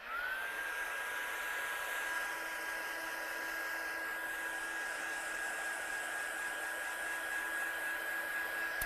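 Heat gun blasting to dry a watercolour handmade card, a loud continuous whirring roar with a steady whine, unbroken from start to finish.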